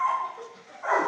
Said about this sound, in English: As you can see, Athena takes really good care of the things that she has here in her kennel